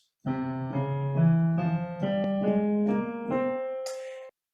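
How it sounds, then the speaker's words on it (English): Eight connected notes step upward one by one from C, the fifth mode of F harmonic minor, on a rich, sustained keyboard-like tone, evenly paced, ending with a brief breathy noise. "And then the fifth mode, starting on C, would sound like this."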